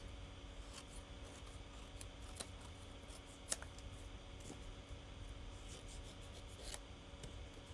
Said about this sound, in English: with my scissors, I'm going to go back in behind the frame